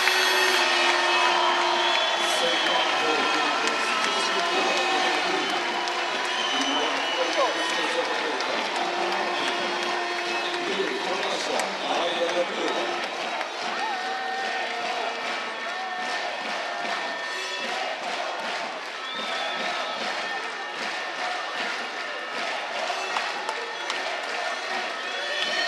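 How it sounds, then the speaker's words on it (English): Arena crowd at the 2017 World Judo Championships cheers and applauds loudly and steadily throughout after a win, a dense continuous roar of voices and clapping with shouts rising above it. "an excellent win, and look at the crowd erupt"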